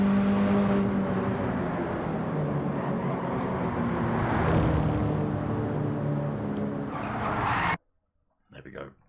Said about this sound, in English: Tyres squealing, drivers peeling off.